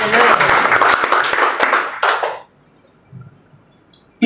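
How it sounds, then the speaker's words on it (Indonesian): A church congregation at a Pentecostal worship service in Jakarta claps together in a loud, dense burst mixed with voices, then the applause cuts off into a quiet room. "Kasih tepuk tangan."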